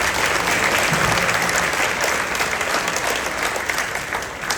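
An audience at an 8th grade middle school graduation ceremony claps steadily in a dense, sustained round of applause that slowly tapers off.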